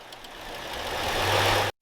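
A new car engine on a factory test stand catches and settles into a steady, fast idle, its loud, continuous mechanical roar building over under two seconds before cutting off abruptly.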